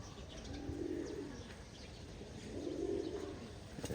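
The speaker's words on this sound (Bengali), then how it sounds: "পাশের বাড়ির ভাইও কবুতর ছাড়ছে, ওই যে উঠতেছে তারগুলো" Pigeons coo twice in low, rolling phrases against a steady outdoor hiss as a neighbour's flock is released to climb into the sky, with faint chirps in between.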